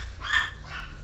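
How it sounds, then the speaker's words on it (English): A dog barks in the background during a Rainbow Six Siege gaming session, one or two muffled barks at moderate distance beneath a low room hum. "you hear her? She is barking up a storm"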